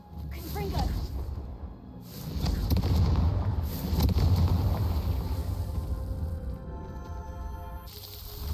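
A Confringo fire blast spell cast in Hogwarts Legacy, a booming, rushing burst with a whooshing blast that swells loudly and rumbles out, amid game ambience and a voice speaking.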